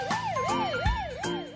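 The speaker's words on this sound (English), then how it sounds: "Ambulance." A toy ambulance sounds a wailing electronic siren that rises and falls in quick repeated sweeps, clear and close, with a few small clicks and a brief thump underneath.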